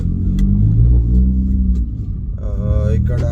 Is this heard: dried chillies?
no